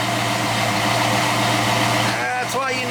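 A 1968 Pontiac GTO V8 idles steadily and loudly up close, a continuous low rumble with an even pulse that shifts slightly near the end.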